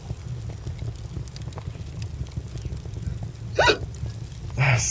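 Two sharp hiccups come from a nearby person, spaced over a few seconds above a low, steady background hum with no speech.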